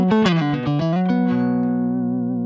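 Electric guitar through a Smooth Impact pedal in vintage mode, a short run of plucked notes that settles into one long sustained ringing note, close and clear, no talking.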